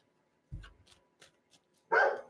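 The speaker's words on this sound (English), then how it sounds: "Sorry, my dog says hi. Please stop barking." A dog indoors lets out a low, muffled woof, a few faint yips and then one louder, nearer bark, short scattered bursts over a quiet room.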